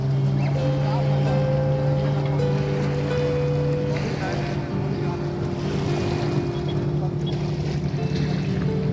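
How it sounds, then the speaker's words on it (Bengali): Speed boats run on the dam lake in Patratu Valley, and a steady droning motor hums close by alongside rushing water and wind. A voice is briefly audible. "এসব যাচ্ছে স্পিড বোটে করে"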